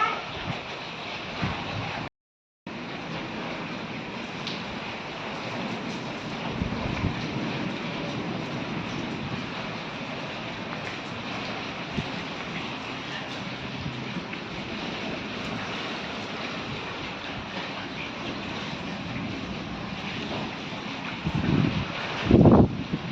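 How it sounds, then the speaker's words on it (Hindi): Heavy rain and strong wind from a dusty storm make a dense, continuous roar close by. It is broken by a brief dropout early on and ends with a few louder gusts or splashes. "बारिश तो आज रुकने का नाम ही नहीं ले रही है।"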